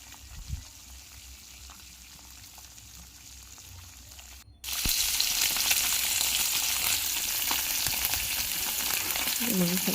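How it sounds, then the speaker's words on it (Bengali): A small pond-raised tilapia fries in a pan, with steady, moderately loud sizzling and crackling in the oil for most of the clip, after a quieter stretch with faint kitchen clatter at the start. "একটা ছোটো তেলাপিয়া মাছ ছিল, মেয়েকে ওটা ভেজে দিচ্ছি"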